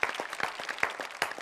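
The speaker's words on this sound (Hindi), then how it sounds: "एक बार मैं भी आप लोगों के लिए जोरदार तालियां बजा देना चाहता हूं।" Loud, distinct hand claps from a single close clapper ring out in an irregular rhythm at a televised poetry show, each clap sharp and separate.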